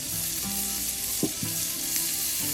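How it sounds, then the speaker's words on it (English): Gentle, steady sizzling of mushrooms frying in a pan of shallow grease, with a few soft pops and clinks, no voices. "And here they are, frying in that very low grease."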